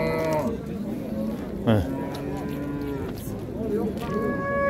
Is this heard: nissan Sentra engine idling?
no